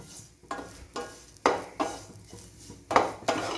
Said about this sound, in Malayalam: നന്നായി ഒന്ന് ഇളക്കി കൊടുക്കണം